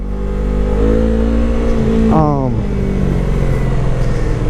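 Motorcycle engine running steadily close by, with a brief rising rev around the middle before settling back to a low idle-like drone; someone talks over it throughout.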